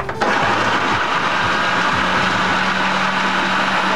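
A food processor chopping food gives a loud steady motorised whir that starts abruptly and runs unbroken, with a rough churning rattle underneath.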